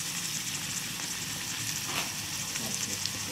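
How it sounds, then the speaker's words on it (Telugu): Turmeric and chili powder sizzling in hot oil in a pan, a steady close crackle and hiss that holds throughout, no voices. "అవి నూనెలో కొంచెం వేగాలండి"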